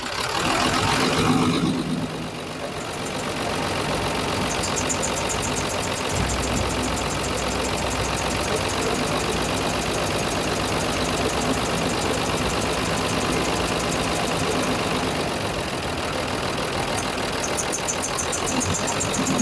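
A diesel engine with a back-compression blowout fault running hard under throttle, a loud, continuous rough roar with a persistent knocking texture and little change in level throughout.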